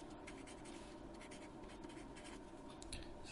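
A marker scratches and squeaks steadily across a board while a limit definition is written, close and faint against a constant background hiss, with no talking.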